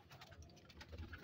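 Breeder pigeons in a loft at night, cooing in low repeated murmurs with soft rustling, close and fairly quiet, no talk.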